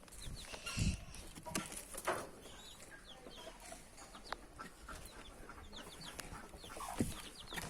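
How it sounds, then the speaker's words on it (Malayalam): Scattered chicken clucks and soft bird calls at a moderate distance over a steady outdoor background, with a few louder bursts. "ഇത് എൻ്റെ തന്നെ കോഴിയാണ്."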